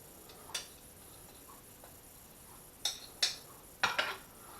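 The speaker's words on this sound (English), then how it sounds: "Crush it up on a big spoon because that's what I got." A tablet is crushed to powder on a big spoon: a few sharp metallic scrapes and clinks, close and fairly quiet, scattered irregularly over a few seconds with near silence between them.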